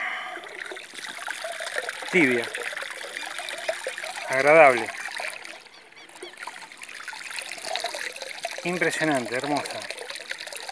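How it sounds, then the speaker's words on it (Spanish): Water trickles and splashes steadily from a pool heating pipe, heard under someone speaking Spanish close by. "vamos a ver cómo sale el agua"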